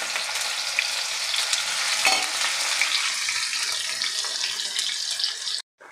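Loud, bright hissing sizzle of chopped raw mango stir-frying in a hot pan, continuous throughout before stopping suddenly at the end.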